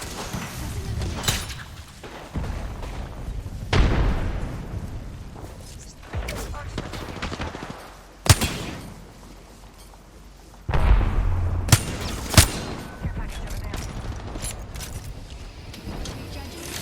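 Video game combat with a grenade blast and bursts of gunfire, several sharp booms and cracks spread across the stretch, the loudest hits near the middle and later, mixed with steady game noise and intermittent talking.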